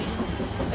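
Class 323 electric train 323235 rumbling nearby with a steady, loud rolling noise over a short moment, no talk.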